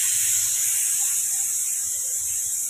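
Steam escapes with a steady, loud high-pitched hiss from a cooking pot of dal on a gas stove, continuous and close throughout.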